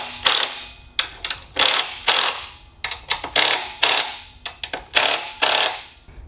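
A hand ratchet clicks in repeated short bursts while tightening the top handlebar bolts on a TrailMaster MB200-2 minibike, the sharp metallic ratcheting coming in irregular strokes with brief pauses between, close and alone without talking.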